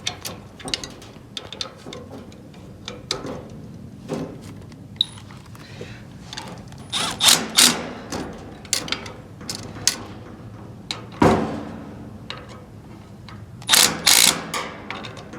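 Bolts on a Power Tank sports bar mount for a two-door Jeep JL are snugged with a ratcheting wrench, producing close, irregular bursts of ratchet clicking and metallic clanks.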